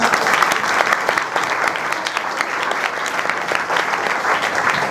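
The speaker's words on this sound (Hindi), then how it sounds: "जोरदार तालियों के साथ" Loud, dense applause from an audience at an Urdu school event, continuous and even throughout with many overlapping hand claps.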